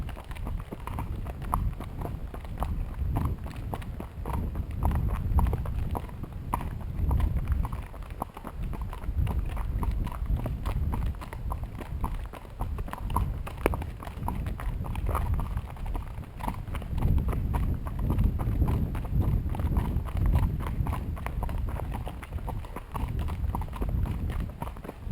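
A horse named in a Mill Creek trail ride walks steadily, its hooves clip-clopping in an even rhythm close by for the whole stretch, with no talk over it.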